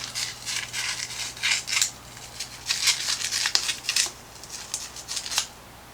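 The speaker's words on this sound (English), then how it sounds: "you'll take your little piece of sandpaper, fold it over, and I'm going to rough this up." Folded sandpaper roughs up a fly rod tip in quick bursts of short, raspy scratching strokes, close and fairly faint, with brief pauses between bursts.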